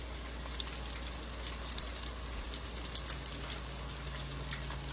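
Leftover chicken-plank batter drizzled from a spoon into hot frying oil gives a steady, dense crackle and sizzle like rain on a surface, close and continuous throughout.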